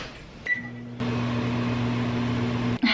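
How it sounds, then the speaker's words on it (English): A microwave oven hums steadily with a low electrical drone after a click and beep start, running alone until it stops abruptly. "put this in the microwave and enjoy."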